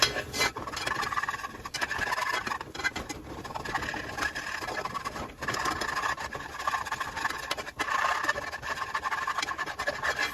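A spoon scrapes and stirs across the bottom of a pot of thick, sticking shrimp and corn soup, a steady rough scratching that repeats over a low background hiss, with no talking.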